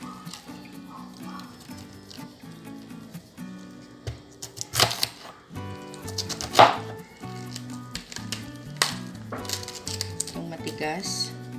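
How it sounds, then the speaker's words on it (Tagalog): A knife slices through more than a kilo of cabbage for homemade coleslaw, making quick crisp chopping taps in irregular bursts. Background music plays underneath. "mahigit isang kilong cabbage. So, hiwain natin siya."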